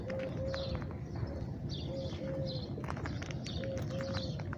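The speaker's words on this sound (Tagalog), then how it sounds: "may ingay pa yan pag sabay-sabay naguhuni" Pigeons coo repeatedly in soft, low pulsing calls, several birds overlapping against a steady outdoor background hum with faint chirps.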